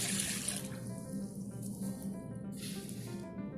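Water pours into a mixing bowl for savory Russian-style pastry dough, a soft, faint trickle and splash heard close up in a quiet kitchen.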